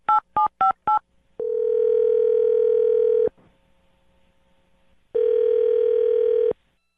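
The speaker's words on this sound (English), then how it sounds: "I'll dial her phone number right now." Four quick touch-tone beeps as a phone number is dialed, followed by two long steady ringback tones separated by a short silence, clear and close with no talking.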